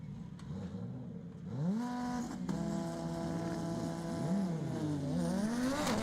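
Lamborghini and Audi R8 drag cars sitting at the staging line at Texas Motorplex during TX2K25 eliminations, engines idling and then revving up and down in repeated rising and falling pitch sweeps, heard from a moderate distance.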